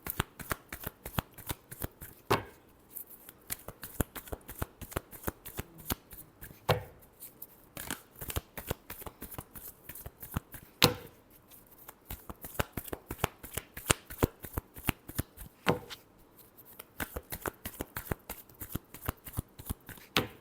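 A deck of tarot cards is shuffled by hand in a close, continuous run of crisp flicking and tapping for about twenty seconds, with brief pauses between bursts.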